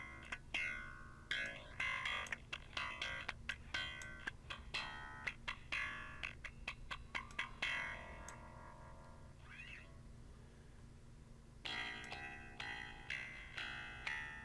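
A music mix passes through a distortion effect, and the processed sound, which resembles gritty cat-like meows, comes in choppy rhythmic bursts with a short quieter gap near the end.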